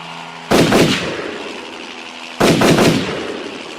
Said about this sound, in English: Bond shot at the helicopter.